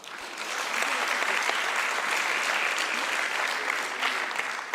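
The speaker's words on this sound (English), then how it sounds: "Can I ask you to give yourself a round of applause" A symposium audience breaks into sustained applause, swelling in over the first second and then holding a dense, even clapping roar until the end.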